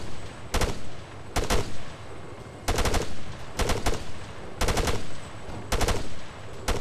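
Automatic weapon fire in a shooter video game: loud, sharp bursts of a few rounds each repeat at roughly one-second intervals over a constant low helicopter-like drone, with no speech.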